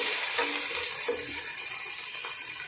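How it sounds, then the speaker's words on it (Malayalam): Curry leaves hit hot oil with frying chicken for a chicken varattu, giving a steady, moderately quiet hiss and crackle of sizzling with faint scattered pops throughout. "ഏറെ കറിവേപ്പില ഇതിലോട്ട് ഇടുക."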